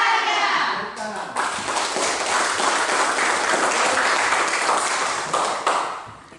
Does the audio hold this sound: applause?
yes